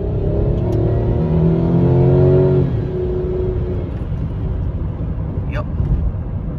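2004 Pontiac Grand Prix GT V6 accelerating away from a stoplight, engine note rising in several stepped climbs before easing into a steady cruise hum, heard from inside the car.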